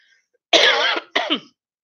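Two harsh coughs up close, the first long and loud, the second shorter and broken, in otherwise quiet surroundings.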